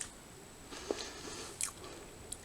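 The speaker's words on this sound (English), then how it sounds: "This is the oat cookie, or the crunchy oat cookie." A crunchy oat cookie from a 24-hour tactical ration pack is bitten and chewed close up, giving a few quiet crisp crunches spread over a couple of seconds in a hushed room.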